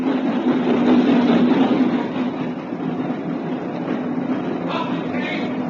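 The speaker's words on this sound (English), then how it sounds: "the boat train pulled into the station" A boat train rumbles low and steady as it pulls into a station, the noise easing off partway through with faint metallic squeals near the end.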